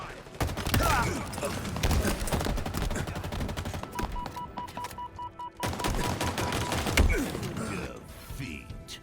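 Dense automatic gunfire in the Blackout battle-royale video game, loud and nearly continuous bursts of rapid shots with thuds and impacts, mixed with game sound effects throughout.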